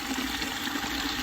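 Water rushes steadily from the spigot of a rain-catching barrel filled with about 200 gallons, a constant close hiss of fast-draining flow with no talking.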